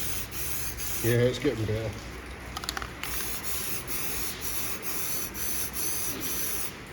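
Silver spray paint hisses from an aerosol can onto a car wheel in repeated short bursts, one spluttering, while someone speaks briefly between sprays.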